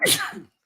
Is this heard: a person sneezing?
yes